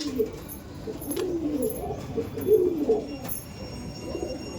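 Kaldom pigeons coo in soft repeated low calls close by, overlapping in a loft amid light background rustling.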